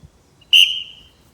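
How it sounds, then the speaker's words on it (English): A single sharp, loud whistle blast rings out to start a lacrosse draw during practice, sounding close and bright, then tailing off quickly into near silence. "you're going to have either someone blow the whistle"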